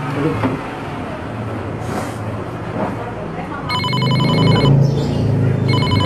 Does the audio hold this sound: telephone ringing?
yes